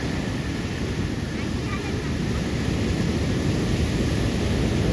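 Steady roaring surf of the sea in rough, stormy conditions, waves breaking continuously, heavy rumbling wash and wind buffeting the microphone throughout.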